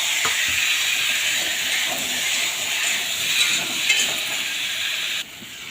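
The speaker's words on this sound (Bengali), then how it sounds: "এবার আলুগুলো ভেজে নেব।" Potatoes fry in oil in a wok, producing an even, close, steamy hissing sizzle that drops off abruptly just before the end, with no speech.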